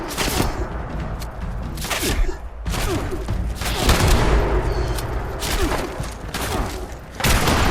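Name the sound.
sniper rifle gunfire in the video game Fallout 76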